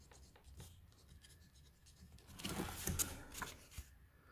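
Pilot Prera fountain pen with a medium nib writing on paper, a faint, close scratching that swells into a few louder strokes midway and then fades, with no talk.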